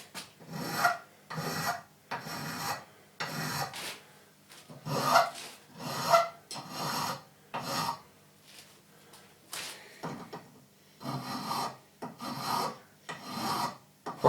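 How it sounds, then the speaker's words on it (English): A hand file rasps back and forth across a metal workpiece, each stroke a distinct scraping burst. About a dozen strokes repeat in a fairly steady rhythm, close up and moderately loud, with short pauses between them. "Filing needs a lot of coordination, actually."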